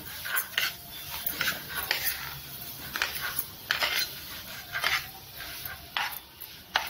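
Semolina (rava) dry-roasts in a pan for sweet sheera, with a spoon scraping and stirring in a quick, uneven rhythm of gritty strokes, close and fairly quiet.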